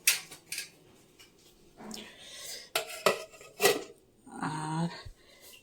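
Metal lids set onto freshly cooked pots in a home kitchen: several sharp clanks and scrapes in an irregular sequence, close and fairly loud, with quiet gaps between them.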